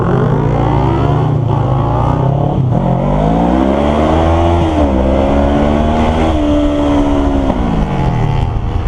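A Kawasaki Ninja motorcycle engine drones loudly and continuously up close, its pitch rising and falling as the rider shifts and accelerates alongside a Ninja 250.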